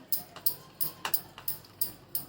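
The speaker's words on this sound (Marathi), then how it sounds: "थोडं बॅटर फेटून घ्यायचं चांगलं" Green pea dosa batter is beaten in a bowl, the utensil striking in quick, regular taps about three or four times a second, close and fairly soft.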